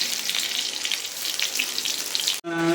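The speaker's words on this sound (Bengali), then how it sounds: "তো এখন আমি ফোড়ন দেব। তো এটা এখন আমি ফোড়ন দেব। তো দিয়ে দিলাম তেজপাতা," Bay leaf and whole spices dropped into hot oil for tempering during a chicken recipe, giving a loud, steady crackling sizzle that stops abruptly near the end.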